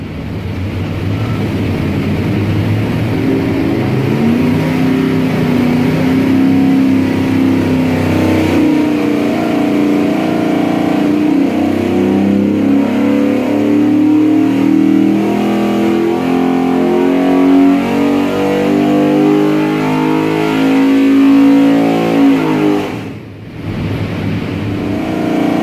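A Ford 5.0 347 stroker V8 pulls hard on a dyno, a loud continuous engine roar climbing steadily in pitch for over twenty seconds, then dropping off briefly near the end.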